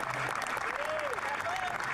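Steady applause at a Canadian 2022 budget announcement, continuous clapping throughout at moderate level, with a voice faintly heard over it.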